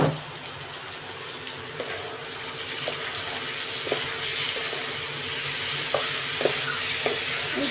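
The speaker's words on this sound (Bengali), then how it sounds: "চালটাকে ভালো করে ভেজে নেব।" Rice for pulao fries and is stirred in a pan, with a continuous soft sizzle and a few light scraping taps from the spoon spaced across it.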